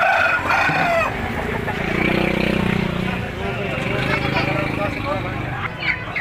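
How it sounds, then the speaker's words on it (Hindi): A Java rooster crows nearby at a Hyderabad bird market, its call stretched over several seconds, with people talking and background farmyard noise. "जावा मुर्गा है।"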